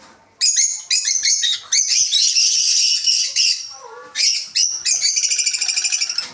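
African lovebirds chirp in shrill, rapid bursts of high tweets and squawks, close and loud, with short pauses between flurries.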